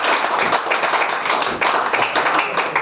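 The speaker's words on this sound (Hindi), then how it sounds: "सर के लिए एक बार जोरदार तालियां।" An audience claps for a guest at a product meeting, a dense, steady burst of many hands close by that keeps going throughout.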